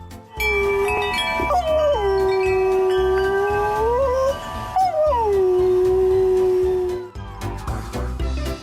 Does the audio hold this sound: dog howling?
yes